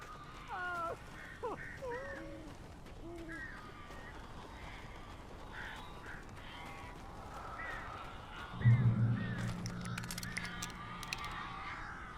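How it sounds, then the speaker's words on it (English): Crows cawing in Alan Wake Remastered, several harsh caws in quick succession early on, then scattered calls over a low ambient rumble, with a brief louder thud near the end. "These birds are weird."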